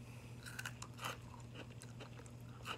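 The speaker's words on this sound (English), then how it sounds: "I'm gonna take a bite." Freeze-dried jackfruit is bitten and chewed up close, giving a run of sharp, dry crunches in an irregular rhythm, quiet and isolated against a faint steady hum.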